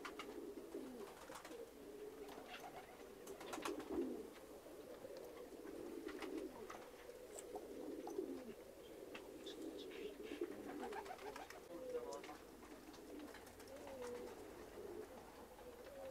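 Pigeons coo softly and repeatedly, a low throaty burbling with occasional faint wing flutters and chirps in the background.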